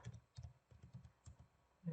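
Faint keystrokes on a computer keyboard while writing JavaScript code, a quick irregular run of soft clicks and taps in short bursts, close and alone without talk.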